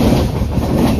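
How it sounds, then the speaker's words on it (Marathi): A passenger train stopping at Karjat station on a Mumbai to Ekvira trip gives off a loud, steady rumble of wheels and carriages, close by and without pause. "ट्रेन थांबले कर्जतला."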